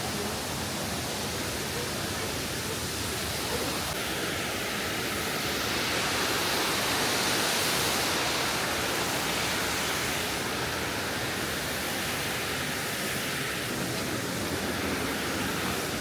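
Broad steady roar of a waterfall at Nunobiki in Kobe, a constant hiss of falling water heard fairly close, with faint voices in the background.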